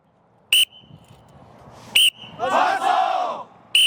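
A coach blows three sharp, loud whistle blasts to pace a low plank workout. A group shout, like a rallying cry, rises between the second and third blasts.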